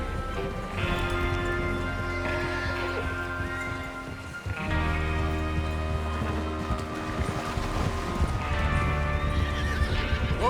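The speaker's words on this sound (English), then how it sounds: "Get your horses ready." Horses clip-clopping at a steady gallop with repeated neighs and whinnies, backed by a game-like music bed and wind, from Red Dead Redemption 2.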